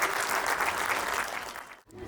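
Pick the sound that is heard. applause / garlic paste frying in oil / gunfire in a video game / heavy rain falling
applause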